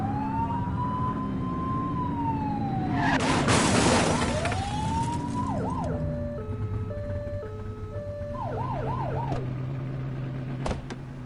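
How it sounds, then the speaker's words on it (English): A police car siren in the video game The Precinct sounds a loud wailing sweep, then short blipped yelps and warbling tones, close and clear against quiet background noise. "Get behind them and blip the siren and make them pull over."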